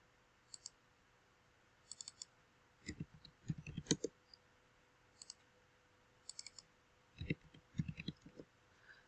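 Soft computer clicks while handling printable sticker kit files, scattered in small clusters with short pauses between them, quiet and close in a hushed room.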